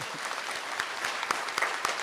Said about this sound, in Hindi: नहीं दिख रहा तो तालियां बजा दें।